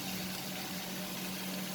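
Water added to simmering masala for an egg malai curry, a steady close broadband hiss and gush with a low hum underneath, continuous for under two seconds with no voices.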